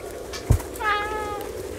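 A cat meows in the video game Stray: one short meow, close and clear, after a brief thump, with a bright tonal rise that fades over about a second.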